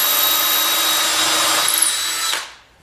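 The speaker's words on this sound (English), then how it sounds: "Drilling the first clamping bolt hole" A power drill bores a clamping bolt hole through a wooden fence template, a loud steady whine held for over two seconds before spinning down and cutting off.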